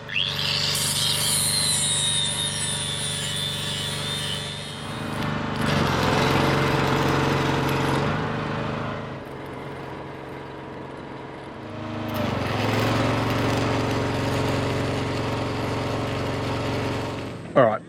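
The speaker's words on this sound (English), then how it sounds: "let's clean this up with a grinder and tack it in place" An angle grinder works a fresh weld on engine mounting tubes, its harsh whine rising and falling in several long passes with short pauses, loud and close.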